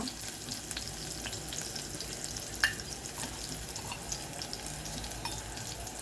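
Chillies, mustard seeds and cumin sizzling in hot oil, a soft steady frying hiss with a few faint crackles and one sharp pop, heard alone at low level.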